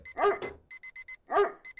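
A dog barks twice in a video game, loud and close, with a steady repeating electronic alarm beeping in short pulses between and after the barks.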